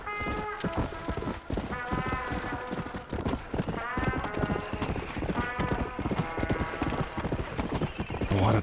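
Horse hooves and neighing in Red Dead Redemption: Undead Nightmare, a rapid, steady clip-clop of galloping hooves with repeated whinnies rising over it, loud and close.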